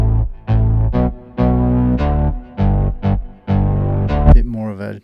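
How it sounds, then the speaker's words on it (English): Gritty stock sawtooth synth bass layer in Logic, a series of harmonically rich, buzzy notes with sharp attacks and short pauses between them, ending in a wobbling tail, loud and with no talking. "A bit more of a grittier kind of stock saw tooth kind of sound,"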